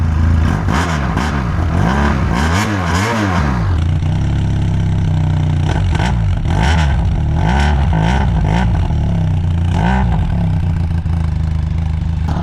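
Small Benelli TRK 502X motorcycle engine running close up, a steady loud rumble with clattery, revving surges and a rising-falling pitch early on.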